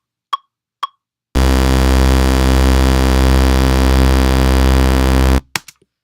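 A Reese bass synth patch built in Ableton Operator drones as one loud, dense, buzzing sustained note for about four seconds, preceded by two short clicks and followed by a few faint taps.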